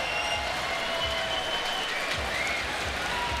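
Crowd at a skateboarding contest clapping and cheering in a steady, dense wash of applause, fairly distant and continuous with no clear talk.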